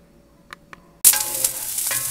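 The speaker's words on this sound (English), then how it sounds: "we are going to add the onions and garlic and just saute them till they're soft" Onions and garlic hit hot vegetable oil in a big skillet and burst into a loud, steady sizzle after a couple of faint clicks, frying continuously up close.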